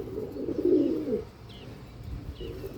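A white male racing pigeon coos nearby with a full, throaty call early on and a softer one at the end, with faint chirps from other birds in between.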